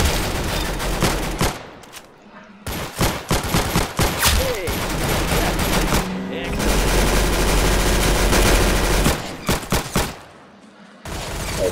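Rapid automatic gunfire from Roblox Arsenal in loud, dense bursts broken by short gaps, with one long sustained stretch of firing, and a voice occasionally talking over it.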